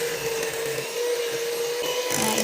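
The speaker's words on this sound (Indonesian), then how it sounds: "Ini kita mixer dengan speed rendah saja, kurang lebih 2 menit sampai creamy ya." An electric mixer on low speed creams margarine with powdered sugar, giving a steady, close, loud motor whir with a constant tone and slight shifts as the beaters move through the mixture.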